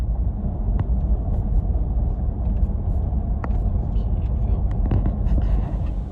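A Chevrolet Corvette C8 rolls slowly into Atlanta Motor Speedway for an autocross event, giving off a steady low engine rumble close by, with a few faint clicks and knocks and no speech.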